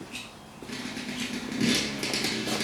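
A Yamaha Banshee engine with its choke pulled runs close by, an uneven, revving mechanical drone that rises and swells toward the end.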